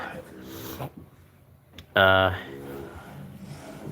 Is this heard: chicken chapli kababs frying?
no